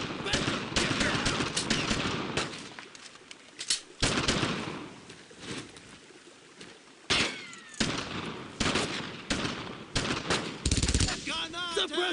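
Sustained WWII gunfire in the Brothers In Arms video game: rapid rifle and machine-gun bursts crack loudly and repeatedly, mixed with shouted soldier voices amid the battle.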